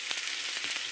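Food frying in hot oil in a home kitchen, a soft steady sizzle with a few small crackling pops, faint and close, with no talk.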